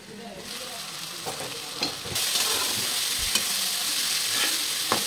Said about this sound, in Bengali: পেঁয়াজ আর আলু একসাথে ভালো করে ভেজে নিতে হবে।